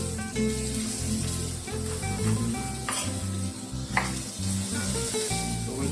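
Garlic and pepper frying in a paella pan for a vegetarian mushroom paella, a steady close sizzle with stirring scrapes and clinks throughout.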